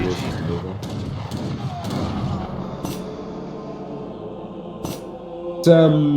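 Artillery and gunfire boom through an Age of Empires III battle with falconets and war wagons, repeated sharp bangs and thuds layered over a busy in-game mix while a commentator talks throughout; a bright tonal game chime rises near the end.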